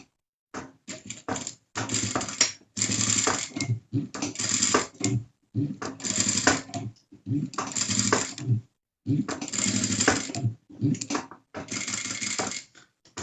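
A sewing machine stitches the shoulder seam of a small doll blouse, running in repeated short bursts with brief pauses between, close and fairly loud, with no talk over it.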